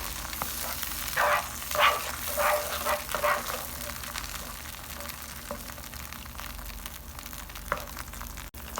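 Chili chicken gravy slurry cooking in a pan over a low flame, giving a soft, steady sizzle with a few louder stirring scrapes early on, then settling into a quiet bubbling.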